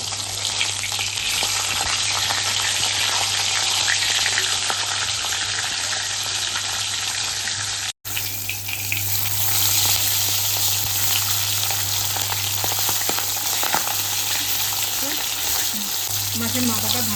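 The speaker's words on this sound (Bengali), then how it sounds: "মাছের মাথাটা ভাজা হয়ে গেছে," Hilsa fish head fries in hot oil with a steady, dense sizzle and spitting crackle, close and loud, briefly cut by a moment of silence partway through, then continuing unchanged.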